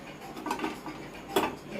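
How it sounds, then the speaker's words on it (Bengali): A utensil scrapes and clinks against a pot as cooked vegetable khichuri is stirred with fried onions mixed in, faint scattered taps with a sharper knock near the end. "তো পেঁয়াজ বেরেস্তা দিয়ে আমি কিছুটা নাড়াচাড়া করে নিচ্ছি।"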